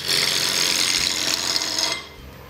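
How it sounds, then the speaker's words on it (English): A bowl gouge cuts a wooden box turning between centers on a lathe at about 1000 RPM, giving a loud, continuous rasping hiss with a low motor hum beneath, ending abruptly as the tool lifts off. "will use my bowl gouge to take the edges off and do most of the work."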